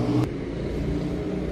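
A small motorbike passes on a street outside a car garage, a steady engine rumble that holds through the whole moment without clear rise or fade.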